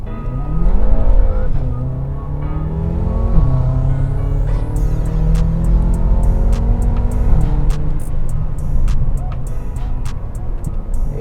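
A BMW M5 accelerates hard from a standstill, its engine note climbing loudly through several rising sweeps with gear-change breaks, close and sustained, with a voice faintly present.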